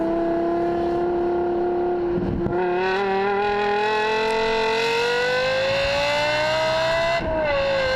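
A Lexus LFA drives on a long runway, its engine holding a loud, steady high-pitched wail that climbs gradually in pitch as it accelerates, with brief gear-change dips.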